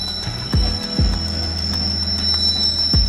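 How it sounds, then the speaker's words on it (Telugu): A train engine approaches in misty Araku Valley: rail sounds with repeated low thumps and squeals, like train wheels rolling over joints, under a steady high-pitched whine. "ట్రైన్ అయితే వస్తుంది కనిపించట్లేదు అదిగోండి ఇంజిన్ చూడండి వస్తుంది"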